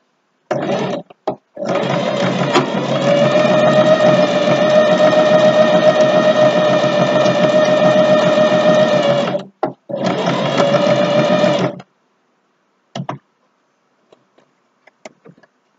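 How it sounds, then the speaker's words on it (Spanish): A sewing machine runs a triple stitch on jockstrap fabric, a loud close whirring hum sustained for about seven seconds, a brief pause, then another two-second run, followed by a few faint clicks. "Vamos a coser aquí y aquí. Ahora con la costura triple."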